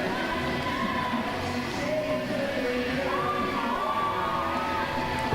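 A wrestling crowd cheers and shouts for Jonny Storm, a dense, continuous wash of voices and whoops filling the arena at a steady level, with a few higher yells rising above the roar.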